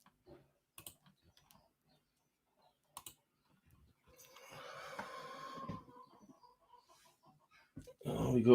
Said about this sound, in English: Oh, we got all sorts of chicken noise going on.